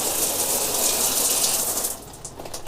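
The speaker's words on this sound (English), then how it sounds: "Turn the water on, and we have pressure." Water gushing from an RV shower head after a low-pressure fix: a steady, loud hiss of spraying water, easing slightly toward the end.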